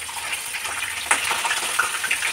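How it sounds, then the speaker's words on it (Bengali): Fish fries in hot oil in a home kitchen, a steady close hiss and crackle with scattered pops throughout, no voices over it. "মাছটা ভাজা হবে, তারপরে মাছ ভাজা হচ্ছে,"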